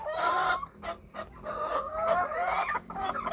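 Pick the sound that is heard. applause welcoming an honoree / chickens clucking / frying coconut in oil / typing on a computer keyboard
chickens clucking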